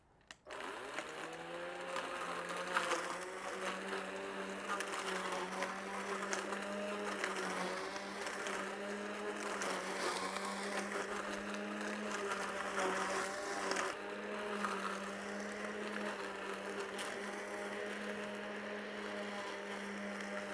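A compact 42V cordless lawn mower starts up and runs steadily with a whirring electric motor drone and a high blade whine, close and continuous for about twenty seconds with slight load variations.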